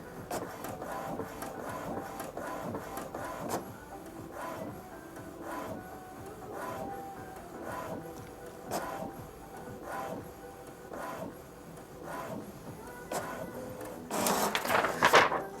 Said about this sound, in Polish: To jest test wewnętrzny drukarki HP 2050